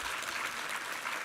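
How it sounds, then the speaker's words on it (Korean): A church congregation applauds during a Sunday worship service, a brief, steady patter of many hands clapping at moderate volume, with no voices. "우리 하나님께 감사와 영광의 박수 올려드리겠습니다"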